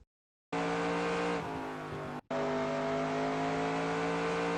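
A NASCAR race car in the NASCAR Racing 2002 video game at Bristol drifts off a corner, with a loud, sustained engine whine, a tire squeal and a brief cut in the sound before the engine roars on.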